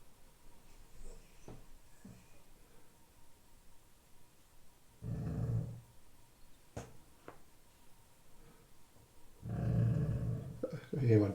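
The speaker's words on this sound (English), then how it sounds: "I hear my dog rumbling away." A dog growls low and faint indoors in two rumbling bursts separated by a quiet stretch, with small knocks and soft noises in between.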